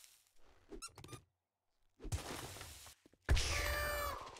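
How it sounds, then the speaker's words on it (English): A squeak sound effect in the video game 7 Days to Die, short squeaky bursts among other in-game noises, with a longer harsh screech near the end. "damn, the little squeak"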